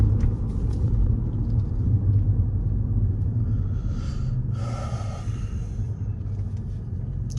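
Audi A6 driving on the road, a steady low cabin rumble of engine and tyres heard from inside, constant and fairly loud, with a brief faint hiss midway.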